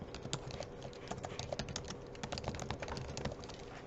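Steady, close typing on a computer keyboard, with quick, uneven key clicks running continuously for a few seconds and no talk over them.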